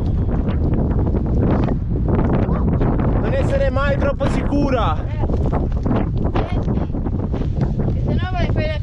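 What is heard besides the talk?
strong wind blowing by a lake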